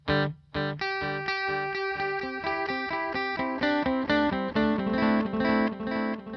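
An electric guitar played through an Echo Square delay pedal, with the effect settings turned down, rings out in steady, loud, sustained chords and single notes on its own for several seconds.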